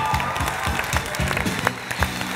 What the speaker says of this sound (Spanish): Quiero un aplauso para Dider